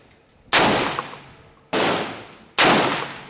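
Three loud, sharp gunshots from a DPMS AR-15 rifle fired at a target, spaced about a second apart, each with a decaying outdoor tail.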